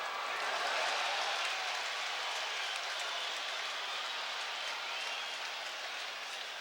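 A large stadium crowd at a baseball game cheers and roars steadily for Nolan Ryan, a broad, sustained wash of noise heard from a distance.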